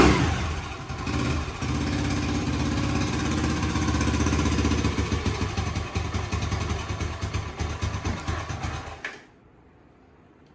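A homemade three-wheeler engine fitted with a Chinese carburetor runs at a rough, loud, fluttering idle with uneven revving, close by, then cuts off abruptly near the end, leaving quiet.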